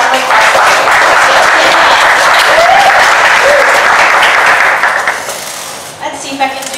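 Loud, close audience applause welcomes a speaker at a morning 1 Million Cups Dallas startup event, dense clapping that holds steady before tapering off, with a few voices and a brief clatter as it ends.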